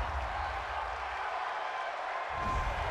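Stadium crowd at a Tampa Bay Buccaneers versus Detroit Lions football game reacting to a roughing-the-passer penalty, a continuous wash of crowd noise and scattered clapping that swells slightly toward the end.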